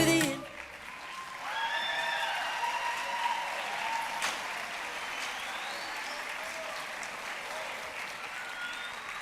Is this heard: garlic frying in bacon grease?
no